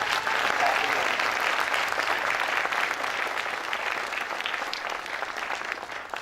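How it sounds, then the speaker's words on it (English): Round of applause from a gathered audience honoring community activists, dense clapping holding steady for several seconds before gradually thinning and fading slightly. "So I would love to give them a round of applause and acknowledgement"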